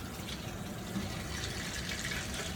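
Water rushes steadily from a tap while a household water heater fills, a faint, continuous hiss and splash of flowing liquid with no talk.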